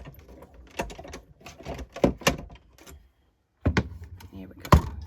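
A card and cover plate are run through a die-cutting machine, giving several short mechanical clunks and cranking rattles in bursts, fairly close and moderately loud, with a brief pause midway.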